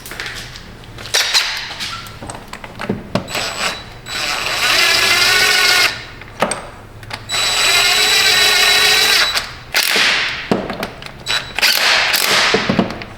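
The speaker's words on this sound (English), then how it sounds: "grab the torque wrench" A torque wrench tightening a bolt on a Buick LeSabre during radiator hose work, giving bursts of ratcheting clicks broken by short pauses, close and loud, with no talking.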